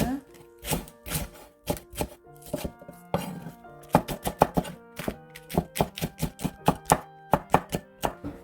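An onion is sliced diagonally with a knife on a cutting board, making a quick series of sharp, close chopping thunks in an uneven rhythm that speeds up toward the end.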